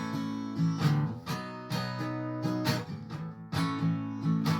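Lydian vamp chord progression played on a keyboard as repeated, evenly spaced chord stabs that alternate back and forth, moderately soft and alone.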